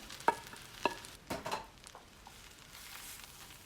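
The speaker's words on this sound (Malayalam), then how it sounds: "ഞാനൊരു വലിയ തേങ്ങ മുഴുവനായിട്ട് ചിരകി ഇതിലേക്ക് ചേർക്കുകയാണ്." Freshly grated coconut from a whole large coconut is stirred into a jackfruit stir-fry, giving a few distinct scraping strokes of a spoon against the pan over a soft sizzle that fades out.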